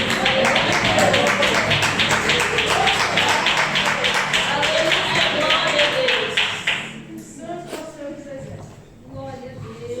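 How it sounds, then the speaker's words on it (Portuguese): A church congregation applauds joyfully for Jesus with dense, sustained clapping that carries on steadily for several seconds, then thins out while voices are heard. "Os irmãos podem assentar e as palmas bem alegres para Jesus."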